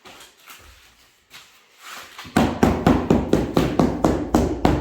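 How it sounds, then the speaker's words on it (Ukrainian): After a few quiet taps, a hammer knocks hard and steadily on a polyurethane foam beehive body mould, about ten sharp, close strikes in an even rhythm. "Візьмімо. молоток."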